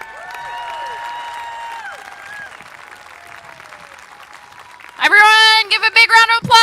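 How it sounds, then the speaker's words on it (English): A town hall crowd claps and lets out a few high whoops and cheers at moderate distance, then a loud, close voice cuts in over the dwindling applause near the end. "Everyone, give a big round of applause"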